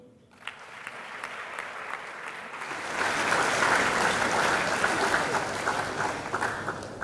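Audience applause for an award recipient starts softly, then swells into loud, sustained clapping from a large crowd that carries on steadily to the end.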